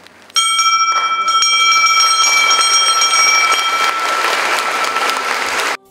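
A bell presented at an Orthodox gymnasium anniversary in Sarov rings out loudly with bright, sustained metallic tones, struck repeatedly so the ringing overlaps and hums continuously for several seconds before cutting off.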